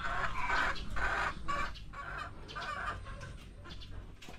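Chickens cluck and chatter close by in short, repeated bursts, several birds overlapping with a low background hum.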